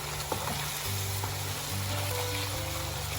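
Masala for shrimp kofta malai curry fries steadily in a pan, a dense continuous sizzle with a low hum beneath and occasional stirring scrapes, close and unbroken throughout.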